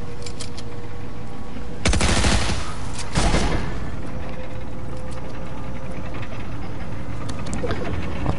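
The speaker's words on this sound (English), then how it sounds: "an automatic rifle" Automatic rifle fire in a multiplayer shooter game: two short, loud bursts of rapid shots about a second apart over a steady background of game sound, with faint scattered clicks afterward.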